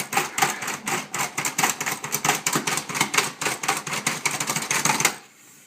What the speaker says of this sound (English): that chops the celery into nice, small, fine pieces